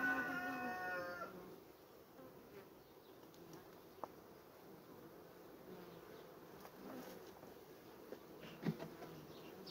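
Honey bees buzz at an apiary beehive during autumn nest reorganization, a steady, close, humming drone that carries on without any talk.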